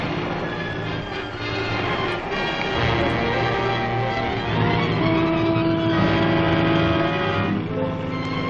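A car engine drones steadily as the vehicle drives straight ahead in a 1941 movie serial, a continuous mid-pitched hum with slight swells and background music, no speech.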